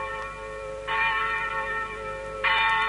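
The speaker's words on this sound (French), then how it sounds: "Mais pourquoi cette cloche sonne à cette heure de la journée?" A church bell rings out Morse code, sounding in long sustained metallic tones separated by a short gap, with a ringing hum lingering underneath.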